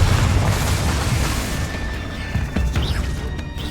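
A Confringo explosive spell from Hogwarts Legacy detonates in a heavy, rumbling boom that rolls on and fades with crackling debris, loud and close.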